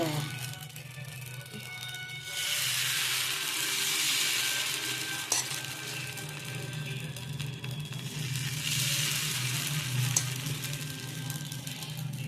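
Dosa batter sizzling on a hot pan, a loud steady frying hiss that swells twice, close and continuous with faint kitchen clatter.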